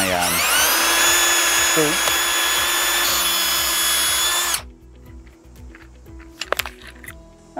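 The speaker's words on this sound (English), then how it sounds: "I'm going to use a 3/16 drill bit to as a pilot for my" A power drill with a 3/16 bit bores a pilot hole in a handrail post bracket, a loud, steady whine for about four and a half seconds that then cuts off, followed by light clinks and a spoken word.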